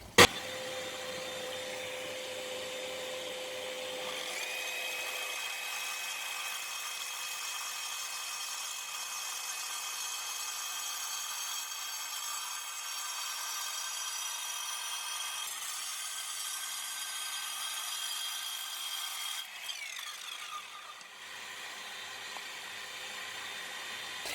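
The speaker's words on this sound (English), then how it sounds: "We got on the saw. Let's cut this little strips out." A power saw cuts slate into strips outdoors, a steady high-pitched whine running almost without a break, close and fairly quiet, with a slight shift as the blade bites near the end.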